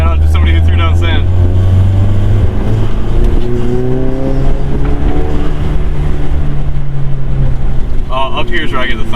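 A 350 hp VW Golf GTI Mk7 drives up snowy Vermont mountain roads, its engine droning loud and close with rising and falling pitch as the wheels spin, while wind and road roar fill the cabin and voices talk in bursts.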